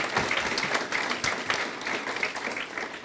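An audience at the South Asian Heart Disease Outreach Red Sari Evening claps for Shoaib, a moderately loud patter of many hands that holds steady with scattered sharper claps.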